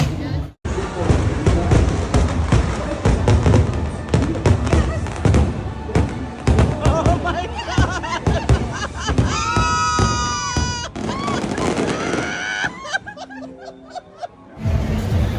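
Happily Ever After fireworks at Magic Kingdom heard from the People Mover ride, a dense stretch of booms and crackles mixed with music and crowd noise, with people talking and laughing nearby.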